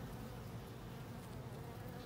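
Honey bees hum steadily around a hive after two colonies were merged, a dense, continuous close buzz with no break and no voices.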